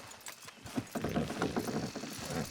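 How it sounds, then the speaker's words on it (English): Horses straining to pull down a structure in Red Dead Redemption 2, with heavy hooves clip-clopping and thudding in an uneven run of close steps over a low, rumbling strain. "Horses will pull it clean down"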